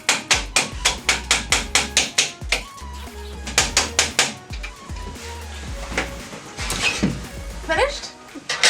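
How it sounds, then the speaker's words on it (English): Handsaw cutting van insulation offcuts, a rapid run of close, sharp rhythmic strokes, then a pause and a few more bursts, with a person talking nearby. "I wouldn't necessarily recommend using a handsaw the way I just used it to cut that"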